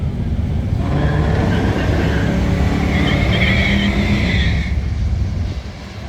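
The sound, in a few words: cars racing each other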